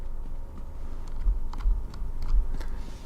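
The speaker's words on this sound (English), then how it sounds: "Hear me clicking away now." Computer keyboard keys clack in quick irregular bursts during play of the online game Elder Scrolls Online, close and fairly loud with no voices over them.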